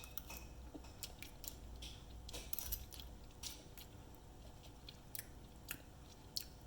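Tasting freshly made, still-hot apple lemon jam from a breadmaker: soft, close chewing and mouth sounds with small clicks and the light clink of a utensil, fairly quiet throughout with no talking.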